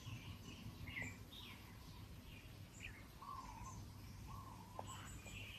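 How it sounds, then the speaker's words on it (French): Birds chirp and whistle in short, scattered phrases at a distance in early-morning Mauritius, over a steady low background hum, with no talking. "Ce que j'adore à Maurice, c'est le bruit des oiseaux."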